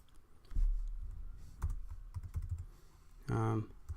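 Someone types a Telnet command on a computer keyboard, a brief run of quiet, irregular key clicks up close ending in one firmer burst like the enter key.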